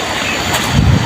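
Water in a large forest stream rushes steadily, a close, loud, continuous wash with a brief swell toward the end.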